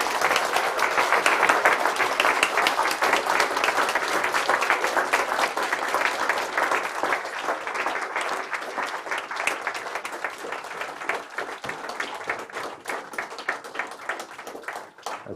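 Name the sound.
audience applauding new surgical diplomates at ceremony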